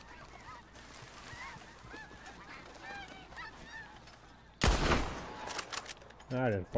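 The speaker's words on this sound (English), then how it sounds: "I just blasted a goose with explosive." A goose honks repeatedly in Red Dead Redemption 2, short nasal calls against outdoor ambience, then a sudden loud explosive blast bursts in, followed by rough noise and a muffled voice.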